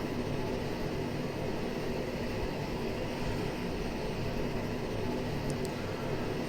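Steady, fairly quiet engine drone of an Aerosoft Twin Otter turboprop taxiing in Microsoft Flight Simulator 2020 at Guatemala City, an even continuous hum with no voices.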